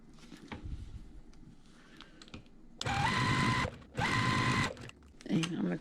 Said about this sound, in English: we're just going to keep on sewing all of these together